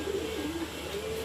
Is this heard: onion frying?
no